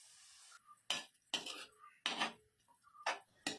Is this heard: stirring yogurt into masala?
yes